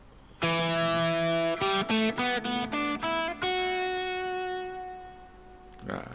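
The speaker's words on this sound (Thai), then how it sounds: "นี่เสียงกีตาร์ปกตินะครับอย่างนี้" Electric guitar with a GT11 Sustainer, played in normal mode with clean tone: a sustained chord, then several quick strummed chords and one final chord ringing out and slowly fading, played alone.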